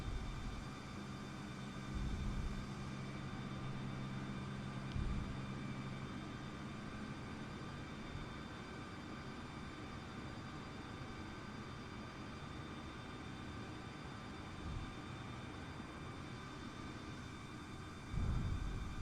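A simulated Airbus A320neo airliner taxiing at a small airport in Microsoft Flight Simulator, a faint steady engine drone with tonal whine and a few low thumps, continuous and without talking.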